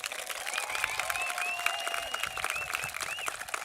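A crowd applauds steadily at a school graduation ceremony, dense clapping with a few faint whistles and cheers in the mix, moderately distant.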